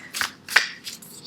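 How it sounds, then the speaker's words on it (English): A deck of cards gets a quick shuffle, three short crisp riffling bursts in just over a second, close and moderately loud with no talking. "I just like giving this a quick shuffle."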